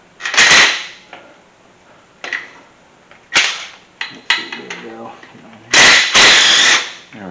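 Loosening an 18 mm bolt on a Mustang engine during a valve leak repair: several sharp, loud ratchet and wrench bursts near the mic, separated by pauses and lighter metallic clicks and clunks.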